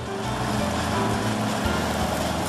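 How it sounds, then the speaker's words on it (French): A riding lawn mower's small LPG-fuelled engine drones steadily and close by, a constant buzzing hum with a slight rough rumble and no pauses. "tondeuse autoportée, carburation GPL."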